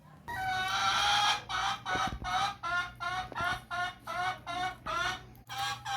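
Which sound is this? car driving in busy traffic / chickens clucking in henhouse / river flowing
chickens clucking in henhouse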